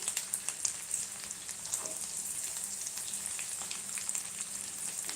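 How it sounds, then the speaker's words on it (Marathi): Chopped onion frying in oil in a home kitchen pan, a steady soft crackling hiss with scattered pops, fairly faint and continuous throughout. "छान असा कांदा तेलामध्ये होत आहे"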